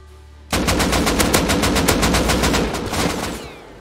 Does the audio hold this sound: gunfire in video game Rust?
yes